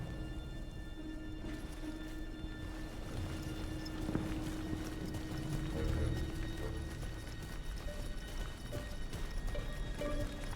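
Rhythmic hoofbeats of a galloping horse in a video game, The Caribou Trail, clatter steadily, moderately close, under a rumbling background and a faint sustained tone.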